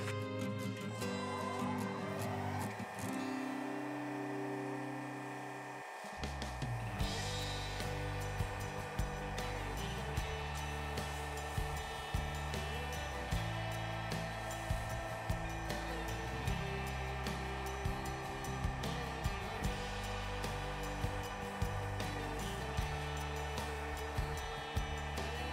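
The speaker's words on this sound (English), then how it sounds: "Got the speed set at 2000 RPM to buff this." Wood lathe spinning at 2000 RPM while a napkin ring is buffed with a few layers of shop towel, giving a steady loud whirring hum with a faint rubbing hiss and small ticks throughout, the motor starting up near the beginning.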